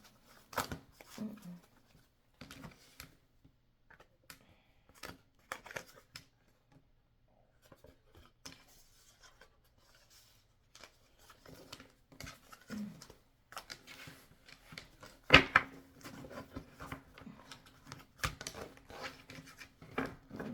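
A deck of reading cards being shuffled by hand, bursts of papery riffling and tapping at irregular intervals, close and fairly quiet, with occasional faint speech.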